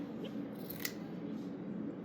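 Scissors handled in a quiet room, a single short metallic snip or click midway through faint background noise.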